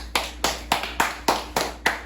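A small group claps in a brisk, even rhythm, about seven sharp hand claps spaced roughly a quarter second apart at a camp gathering, close and clear with no voices.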